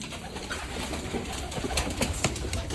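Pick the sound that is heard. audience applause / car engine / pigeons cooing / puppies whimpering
pigeons cooing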